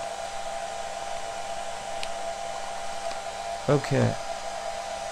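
A hair dryer blows steadily over wet acrylic paint on an abstract horse canvas, a constant whirring hum, while a voice briefly speaks close by near the end.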